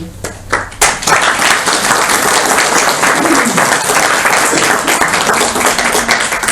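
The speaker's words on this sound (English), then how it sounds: "We don't always stay for the clapping" An audience at a spiritual lecture breaks into loud, sustained applause after a brief lead-in, many hands clapping densely and evenly close by.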